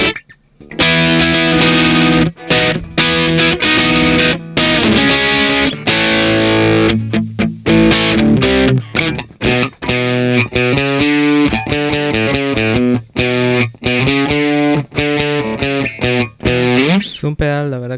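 An electric guitar plays through a Vox DC1 distortion pedal set to light gain with the tone below halfway, using the neck pickup; loud, sustained chords and riffs ring out with short gaps between phrases.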